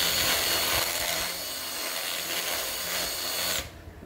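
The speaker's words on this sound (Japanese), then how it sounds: "ドリルで これでちょっと広げていきますこういうふうな感じで" A power drill grinds steadily as it widens a hole for an aquarium skimmer installation, a close, continuous rasping whir that stops abruptly near the end.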